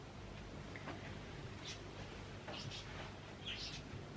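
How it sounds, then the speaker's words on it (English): Birds next door chirping fairly loudly, with scattered short high tweets and calls at irregular intervals over a low background hum, heard at a moderate distance without talk. "Can you hear my birds next door?"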